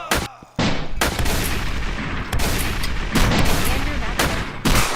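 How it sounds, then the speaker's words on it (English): Players firing from above in a shooter game: dense bursts of loud gunfire and rattling volleys fill the stretch with only brief gaps. "Oh, people are shooting from above."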